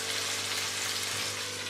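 Chicken and cauliflower cook in a covered pan, a steady, moderately loud sizzle with an even hiss, ending with a short clink as the lid is handled.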